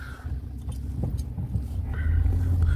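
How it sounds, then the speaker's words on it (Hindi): A tractor engine rumbles at a construction site where soil is being dug up and hauled on the outskirts of Gurugram. The low, steady drone sits at a middle distance and grows somewhat heavier toward the end. "ये पीछे आप ट्रैक्टर देख सकते हैं।"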